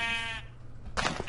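Sheep in a farm video game bleat in a loud, close call with a steady harmonic tone for the first half second, then a second burst of bleating or farm noise follows after a short gap.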